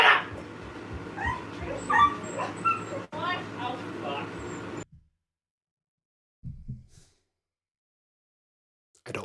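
Dogs bark, yip and whimper excitedly at close range for several seconds, the sounds mixed with a voice, then stop, leaving brief faint noises amid silence.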